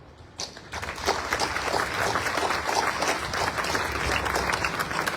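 An audience at a fire company's 100th anniversary event breaks into applause, a dense sustained wash of many hands clapping that begins abruptly and holds steady and fairly loud throughout.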